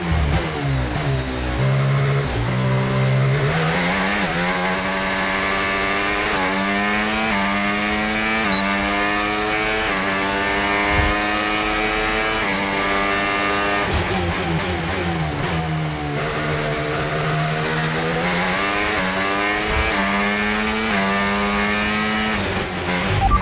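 A Formula 1 race car engine from the F1 25 video game screams through a lap, its high whine climbing and dropping with each gear change and corner, loud and continuous throughout.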